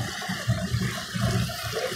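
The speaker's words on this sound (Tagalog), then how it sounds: "may mga fountain sa gilid. Oh, fountain. Tubig." Water from a fountain on the Manila Bay waterfront near Mall of Asia splashes and rushes in a steady, close wash with small surges, and no voices are heard.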